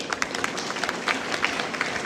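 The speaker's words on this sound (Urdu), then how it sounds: "اب آپ تالیاں مار رہے ہیں" Audience applause at a prize and book distribution event, a steady wash of many hands clapping with scattered sharper claps, moderately loud and continuous throughout.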